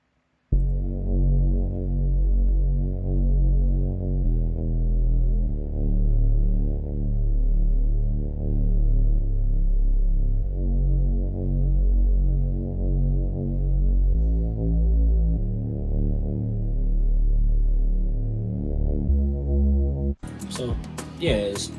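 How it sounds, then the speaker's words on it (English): Omnisphere "Deeply Disturbed" synth bass plays a deep, throbbing, pulsing line that sustains steadily and loudly for about twenty seconds before it cuts off abruptly into a brief scrap of other sound. "next we got a bass from Omnisphere"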